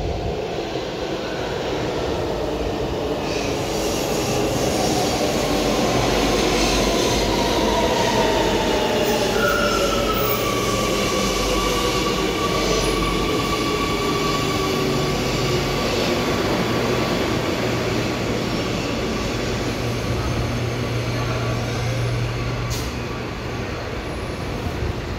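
Amsterdam GVB metro train on line M52 sitting at the platform, a loud steady rumble of the train with a long whining tone and some faint wheel squeal throughout, with no voices.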